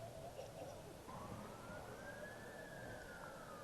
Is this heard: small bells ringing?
no